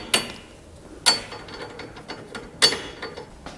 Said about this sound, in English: We're going to go ahead and tighten this down, but we're not going to tighten it all the way just yet.